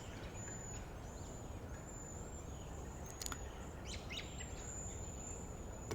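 Birds call outdoors on a sunny morning after overnight rain, a steady high-pitched insect-like trill running throughout with a few brief chirps, over a constant low rumble of light wind.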